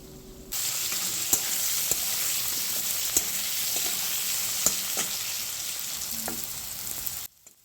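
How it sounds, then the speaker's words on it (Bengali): Diced potatoes frying in hot oil with a little salt and turmeric, a loud continuous sizzle after they hit the pan, with a few sharp spatula clicks scattered through it before the sound cuts off. "ডুমো করে কেটে রাখা আলুগুলো তেলের মধ্যে দিয়ে দেওয়া হলো সামান্য একটু নুন আর হলুদ গুঁড়ো দিয়ে আলুটা প্রথমে ভেজে নেওয়া হবে"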